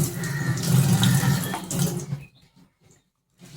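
Tap water runs steadily into a kitchen sink while cut vegetables are washed, a close splashing flow that stops abruptly, leaving near silence with a few faint drips and clinks.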